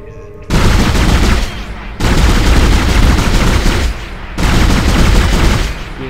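Sustained rapid gunfire from the video game Dead Space in a zero-gravity section, loud dense bursts in three long volleys with brief drops between them.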